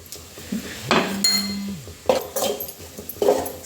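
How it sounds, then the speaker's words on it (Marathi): Soya chunks tipped into a cooking pan for a spicy soybean bhaji, giving several close clinks and clatters of utensils against the pan with a brief scraping slide, no talking. "सोया वडी घालत आहे।"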